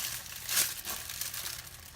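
A plastic bag of chili is handled and lifted, giving soft crinkling and rustling plastic sounds with one louder crumple near the start, close and without talk.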